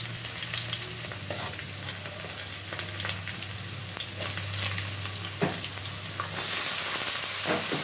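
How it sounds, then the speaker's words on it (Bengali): Onions sizzling and frying in a pan for a potato and sweet potato greens stir-fry, a continuous loud crackling hiss with occasional stirring scrapes, growing brighter and more intense toward the end. "দেখো পেঁয়াজ ভেজে নিচ্ছি"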